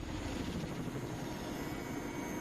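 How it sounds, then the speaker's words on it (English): A helicopter drones at a distance, its rotor producing a steady low pulsing chop that stays fairly faint and even throughout the short stretch. "Helicopter."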